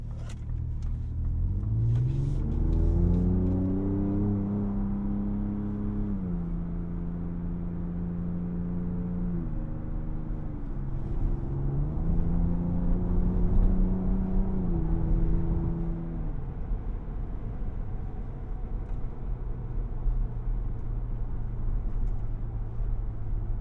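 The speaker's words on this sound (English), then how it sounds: "this truck's been a thrill to drive" A 2024 Ford Ranger Raptor pickup truck engine revs repeatedly while driving, its pitch climbing and dropping through gear shifts over a steady low rumble, recorded binaurally.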